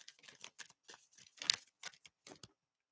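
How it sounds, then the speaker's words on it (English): Cards flutter and riffle in a quick series of soft, crisp bursts, close and fairly quiet, during a slightly clumsy shuffle of a deck, with no talking. "I'm having such a hard time shuffling today."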